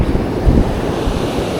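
High surf rolling in at Jacksonville beach, Florida, a steady loud roar of breaking waves with rumbling wind noise on the microphone and a brief swell of crashing water near the middle.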